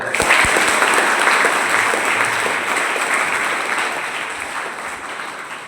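A crowd at an ashram gathering applauds after a lecture: full, continuous clapping that stays strong and then slowly thins and fades over several seconds.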